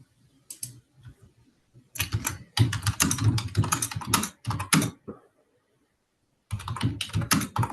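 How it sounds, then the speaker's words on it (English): Fast typing on a computer keyboard, bursts of crisp rapid key clicks separated by short pauses, close and fairly quiet with no talking. "might be typing up a question"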